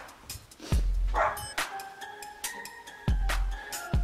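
A dog gives several sharp, loud barks and yips close by, spaced irregularly over a few seconds with no talk.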